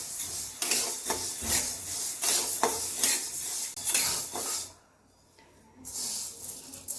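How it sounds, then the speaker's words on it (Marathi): An ingredient dry-roasting in a pan over medium gas is stirred constantly, with rhythmic scraping and rattling strokes close up, a brief pause near the end, then stirring resumes. "मीडियम गॅसवर सतत हलवून थोडंसं गरम होईपर्यंत, हाताला गरम लागेपर्यंत भाजून घ्यायचं"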